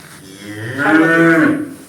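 A cow (a dairy cow) lets out a single loud, drawn-out moo that swells and then fades, heard close up with no talking over it.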